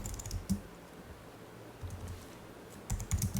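Quick bursts of keystrokes on a computer keyboard as a command is typed into a terminal, clustered clicks at the start and end with a short pause between, close and without talk.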